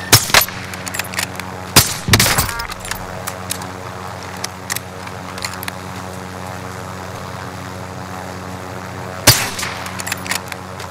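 Gunfire in the shooter game Call of Duty: Modern Warfare, with loud broadband bursts near the start, a sharp cluster around two seconds and another late burst, over a steady low drone of game ambience.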